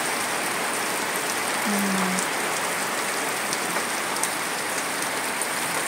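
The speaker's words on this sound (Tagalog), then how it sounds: "Ulan din ngayon." Steady rain pours down in a windy storm, a dense, even hiss of drops on surfaces that holds constant throughout, with no voices.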